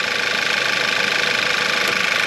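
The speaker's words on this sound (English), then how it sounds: "getting the engine started is only half the battle." An old car engine runs after being started, a loud steady mechanical clatter with rapid rhythmic knocking that continues unbroken throughout.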